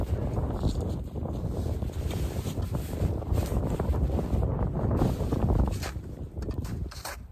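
Winter wind buffets a hot tent camp, a loud roaring gust noise battering the microphone in steady waves, with no voices heard.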